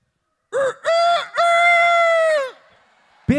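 A person's voice imitates a rooster crowing, a loud close cock-a-doodle-doo in three rising and falling bursts with a long held final note, followed by a short shout.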